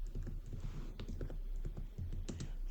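Quick, light keystrokes on a computer keyboard as a search is typed, an uneven close-up clatter of taps in short bursts over a low steady hum.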